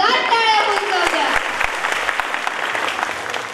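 An audience applauds at a school orchestra concert, a loud burst of clapping that fades gradually over a few seconds, with a voice speaking over the start.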